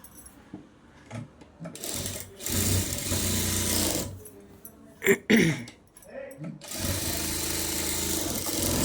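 A sewing machine stitches the shaped waist belt of a princess-cut garment in several close, whirring bursts separated by pauses, with someone talking between and over the runs.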